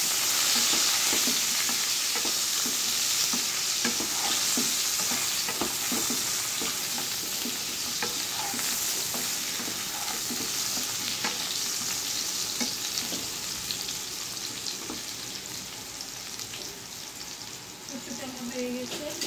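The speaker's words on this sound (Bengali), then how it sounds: "মিশিয়ে নেব।" Food sizzling steadily in a hot pan while a spoon stirs and scrapes through it, with a dense frying hiss throughout and occasional soft scrapes.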